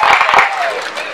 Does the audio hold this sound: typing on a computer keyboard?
no